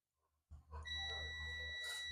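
A multimeter set to diode mode beeps on a shorted capacitor on a Dell Latitude E5250 logic board: one sustained, high electronic tone starts after a short click and continues steadily.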